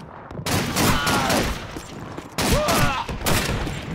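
German rifle and submachine gun fire in a war video game, rapid bursts of loud shots in two clusters separated by a brief lull, close and harsh with no talking.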